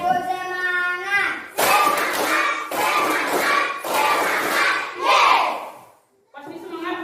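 A class of elementary school children in an Indonesian classroom performs a rhythmic spirit clap, with loud bursts of group clapping and shouted chanting in steady beats, then a short pause before voices return.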